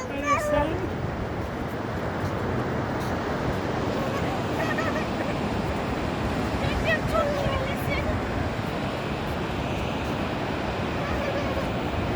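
Gentle waves wash steadily along Mackenzie Beach in Nanaimo, a continuous moderate surf with geese honking over it and voices at times.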